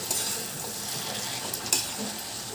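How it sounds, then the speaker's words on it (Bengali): Red amaranth stems being stirred in a frying pan after soaked mustard paste goes in, with a steady sizzle and frying hiss throughout and a few soft scrapes of the spoon against the pan. "সব আবার মিশিয়ে দিচ্ছি।"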